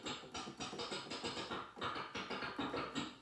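Busy layered percussion pattern from a Casio CZ-1000 synthesizer preset, steady rhythmic hits with bright metallic textures, moderately quiet, no voices.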